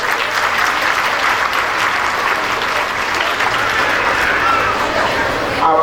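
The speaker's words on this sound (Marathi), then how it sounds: "आपण टाळ्या वाजवून कौतुक केलं पाहिजे" An audience at a school annual day claps in a loud, sustained burst of applause that lasts several seconds before fading into a voice.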